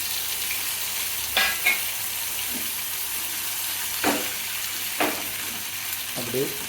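Sardine fish frying in oil in a pan over low flame, a steady close sizzle with occasional sharper pops and spatters, and no talking.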